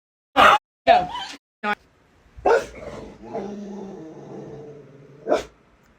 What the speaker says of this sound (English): What are you barking at, Bubba?